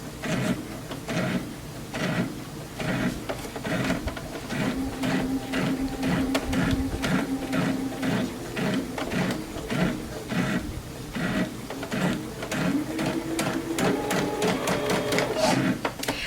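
A sewing machine stitches quilt pieces in quick rhythmic bursts of needle clatter, close and fairly quiet, with a faint hum beneath and no talk.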